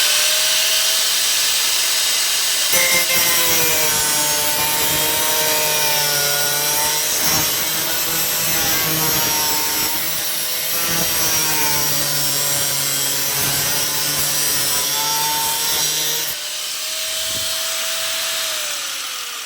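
A power saw cuts through the top of a car's boot lock strengthening panel, a loud, steady grinding rasp running almost continuously with slight shifts in pitch before easing off near the end.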